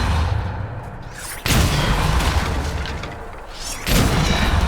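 A Depulso force spell cast in the game Hogwarts Legacy lands as a loud booming blast, followed by a rumbling impact and a second heavy surge near the end, with no talking.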